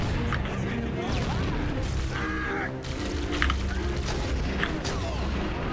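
Grenade explosions and gunfire in the Halo CE video game. Booms and crashes sound over a constant busy combat mix that stays loud throughout.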